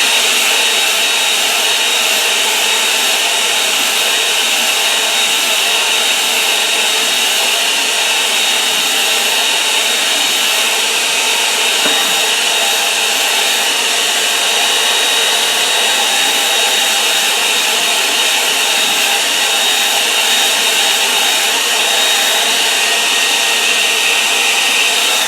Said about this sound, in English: I'm going to dry it now, so I want to get into some reflections on that pond.